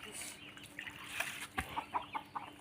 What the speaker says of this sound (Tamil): இங்கே பாருங்க, இதெல்லாம் நம்ம கோழி குஞ்சு.